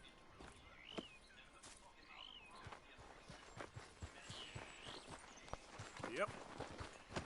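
Horse hooves clip-clopping in the video game Red Dead Redemption 2: a steady run of close hoofbeats over a soft outdoor bed with faint birdsong, while voices talk briefly over it.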